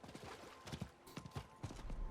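A horse's hooves clip-clop at a quick, uneven trot in the video game Diablo 4, quiet and alone.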